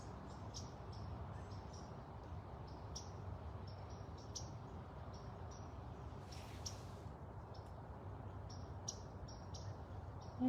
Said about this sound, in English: I hear you, birds.